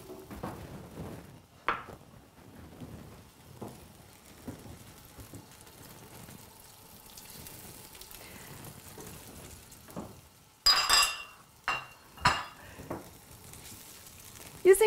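Tofu going into a curry pan over medium-high heat, with a steady low sizzle and occasional louder clatters and stirring bursts near the end.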